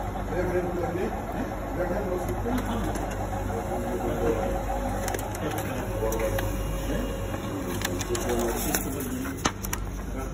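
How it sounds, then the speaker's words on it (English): A Brother IntelliFax 2840/2820 fax machine prints a transmission report, giving a steady mechanical whir and hum that runs the whole time with faint background voices. "Then it's printing the transmission report."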